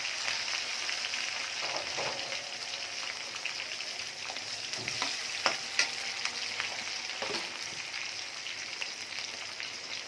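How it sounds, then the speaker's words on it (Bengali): Garlic and a heap of green chilies fry in hot oil in a pan, giving a steady, dense sizzle and crackle with occasional louder pops, close and continuous with no talking. "রসুনটা হালকা ভাজা ভাজা হয়ে গেছে, এখন ঝালগুলা দিয়ে, অনেকগুলা ঝাল দিয়েছি"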